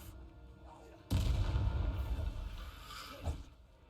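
A Confringo blasting spell bursts in Hogwarts Legacy with a sudden loud, booming explosion that rumbles and decays over a couple of seconds, then a smaller thud follows.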